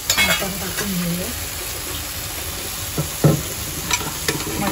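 Pressure-cooked mutton is tipped into a cooked ground masala paste in a pan and stirred, giving a close continuous frying sizzle broken by scraping stirs and a few clanks, with no talk.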